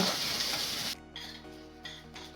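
Parboiled rice frying in hot coconut oil with popped mustard seeds, a loud close sizzle that drops away abruptly partway through, leaving quieter crackles and a few stirring scrapes in the pan.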